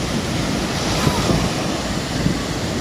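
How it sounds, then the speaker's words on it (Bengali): Powerful sea waves surge and break in a steady, loud roar of surf, with wind buffeting the microphone throughout and no pauses. "সমুদ্রে প্রচুর ঢেউ"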